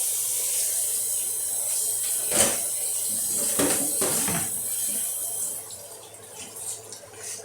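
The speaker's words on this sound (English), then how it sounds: "I'm going to wash all the starch off of the pasta." Tap water streaming over cooked spaghetti to rinse off the starch, a steady hissing splash with a few sharper bursts as the pasta is moved, tapering off near the end.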